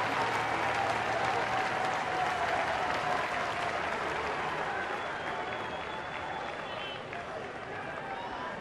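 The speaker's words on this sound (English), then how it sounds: "Applause for Chipper Jones." Baseball stadium crowd applauding Chipper Jones of Atlanta as he comes to bat at Pittsburgh, a dense, loud, sustained roar of clapping and cheering across the ballpark that fades slightly toward the end.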